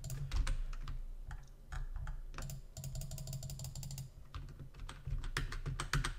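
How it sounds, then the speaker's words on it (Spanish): Rapid computer mouse clicking while drawing pixel art: dense bursts of quick, close clicks and clatter, continuing almost without pause, with no talking. "Ahí hice una metralleta de clics"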